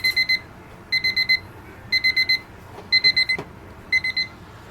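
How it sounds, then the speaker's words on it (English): A kitchen timer alarm beeps in rapid clusters of four to five shrill tones, repeating about once per second for five bursts, loud and close with faint background sounds between. "And there's the alarm."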